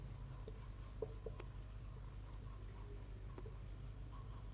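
Faint, brief scratches of a pen or marker on a board during a current-affairs class, a few light strokes over a low steady hum with no voice.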